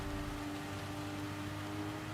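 Heavy rain during a race at High Speed Ring in Gran Turismo 7, a steady, even hiss of downpour with no break, fairly faint and uninterrupted by voices.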